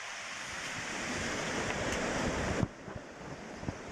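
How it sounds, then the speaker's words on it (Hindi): The Gauri river rushing between mountains, a loud, broad, continuous roar of water with wind buffeting the microphone, easing slightly near the end. "और ये सामने जो है गौरी नदी बह रही है"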